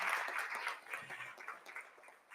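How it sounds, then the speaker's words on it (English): Audience applause at a town hall meeting in a church hall: a dense patter of many hands clapping, moderately distant and fairly faint, steady then thinning slightly, with no talking. "can we give them a round of applause for their willingness to speak?"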